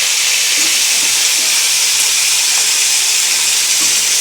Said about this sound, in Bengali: তেলটা দেখো গরম হয়ে গেছে। আলুটা ছেড়ে দেবো, মানে সবজিটা।